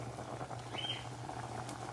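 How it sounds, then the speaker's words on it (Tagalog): Soft continuous bubbling of malunggay milk soup simmering in a pot, low and steady with a faint hum underneath. "Pakuluan natin ang pakuluan to kay para talaga malinamnam ang ating sinabawang malunggay."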